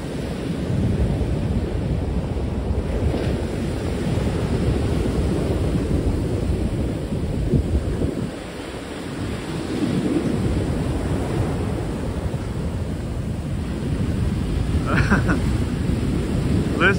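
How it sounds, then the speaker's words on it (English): Steady ocean surf washing ashore on a January day with rain expected, a broad continuous rumble with swelling surges and a brief lull midway, wind buffeting the microphone throughout. "the ocean sound makes many of my viewers sleepy"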